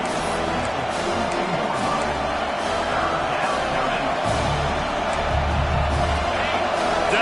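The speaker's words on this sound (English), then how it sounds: "Decibels rising as the crowd gets behind this defense on third down." Stadium crowd noise in a College Football 26 game, Oregon versus Indiana, a steady dense roar of many voices swelling slightly on third down, with a commentator talking over it.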